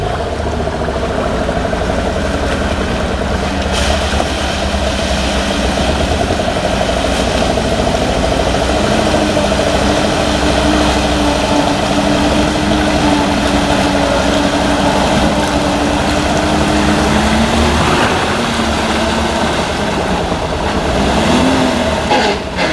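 A GAZ 69 engine drones steadily and loudly while driving, a continuous low rumble with a rising and falling whine as speed changes, with no talk over it.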